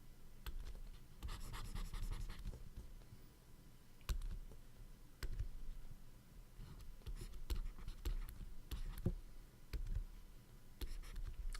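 Pencil or pen scratching out numbers by hand while working a vertical division problem, with intermittent soft scribbles and taps over a low room rumble.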